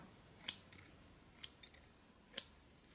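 Faint, crisp snips of scissors cutting hair close by near the ear, a few isolated clicks spaced irregularly over a quiet background.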